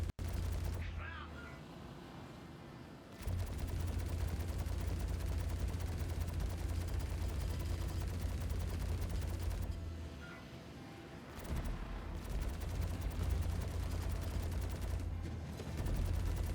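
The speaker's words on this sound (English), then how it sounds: "enemy fire" Sustained enemy gunfire in the space game Star Citizen, dense rapid bursts with a heavy low rumble running through most of the stretch, briefly dropping off twice before resuming, with a voice talking over parts of it.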